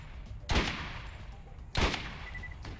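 Gunfire in the shooter Borderlands: two sharp, punchy shots about a second apart ring out over low background game noise, with faint talk nearby.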